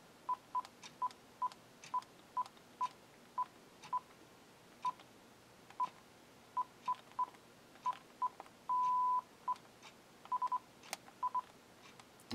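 Keypad tones from a Uniden DECT1560 cordless phone: a long irregular series of short, close beeps as buttons are pressed, with one longer held tone near the end and no speech.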